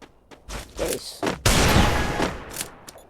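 Gunfire in a shooter video game during headshots, a cluster of close, sharp shots followed by a longer burst of blasting and crackling with ringing tails.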